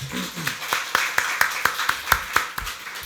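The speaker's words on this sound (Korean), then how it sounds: "박수로 하나님께 영광 돌리겠습니다." A church congregation at a Korean Sunday service claps in a steady, even rhythm, the claps loud and close and repeating about four times a second.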